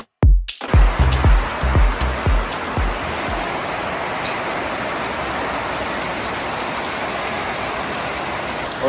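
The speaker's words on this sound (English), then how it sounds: "all of a sudden it just starts pouring again" Heavy rain pours down on a boat after a few loud knocks, a steady dense hiss of downpour drumming on surfaces that holds without letup.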